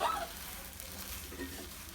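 Carrot kesari being stirred in a pan gives a soft, steady sizzle with faint scraping through the whole short stretch, fairly quiet and with no voice over it.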